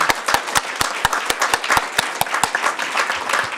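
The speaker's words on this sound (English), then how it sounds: "let's give a final applaud to our wonderful award winners today" A rally audience claps for the award winners, a steady run of sharp, close individual handclaps that taper off toward the end.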